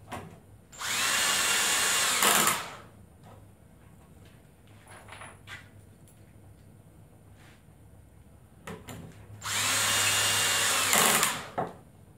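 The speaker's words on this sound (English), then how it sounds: "drill them down" Two loud bursts of a power drill driving screws into a telescope ground board, each about two seconds long, separated by quieter handling noises and clicks.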